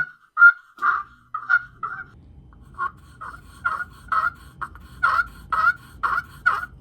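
A series of raspy, high-pitched yelps from a wet turkey pot call run with a walnut wood striker, in short uneven bursts, some sounding scratchy, skipping and breaking, with faint low background noise.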